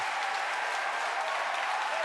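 A crowd cheers and applauds at Falcon Heavy booster separation, a steady roaring mix of clapping and shouting voices that stays loud and unbroken from start to end.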